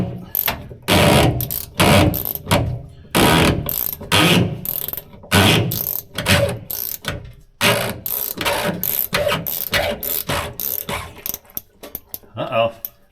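A 29 millimeter socket on a ratchet loosens the fuel filter on a 2019 Ram, a close, rapid series of clicking pawl bursts in uneven runs, with short pauses between strokes.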